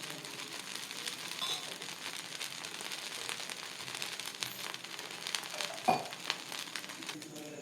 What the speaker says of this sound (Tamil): திருப்பி போட்டுட்டு இன்னும் கொஞ்சமாக எண்ணெயை விட்டுக்கோங்க.